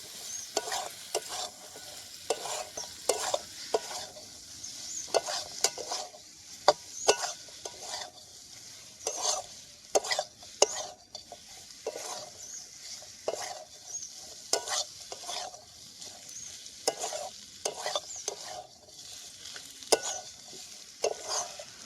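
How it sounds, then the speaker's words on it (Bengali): Fried chicken is stirred in a honey garlic sauce in a pan, with a steady run of spatula scrapes and knocks against the metal over a soft sizzle and no talk. "এগুলো দিয়ে নাড়িয়ে নেব।"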